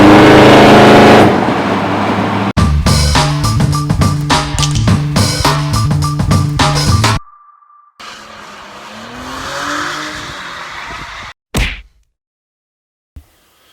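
A loud 383 small-block Chevy engine in a muscle truck revs hard in repeated bursts, then cuts to quieter rumbling and a short tone, ending with a sharp burst and silence.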